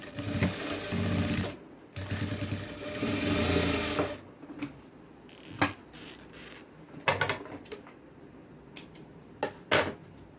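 A sewing machine stitches a line on a blouse latkan: a close, rapid mechanical whirring burst lasting a few seconds, followed by quieter handling clicks and short taps as the fabric is turned.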